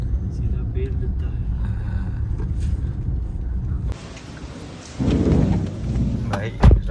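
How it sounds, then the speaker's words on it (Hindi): Heavy monsoon rain pours down as a steady dense roar, with a sudden louder surge midway and a sharp burst near the end, heard outdoors close by. "ये देखो भाई बारिश देख रहे हो कितनी झमझम पेल के हो रही है"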